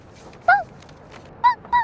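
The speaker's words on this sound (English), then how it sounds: "The sound of a puppy barking from the other room immediately drew my attention." A puppy barks from another room, three short high-pitched yips spaced apart, faint and a little distant over a quiet background.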